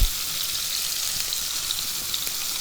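Steak searing in a hot pan after salt, pepper, thyme and garlic go in: a steady, dense sizzle with faint crackles and pops, close and even throughout, with no one talking.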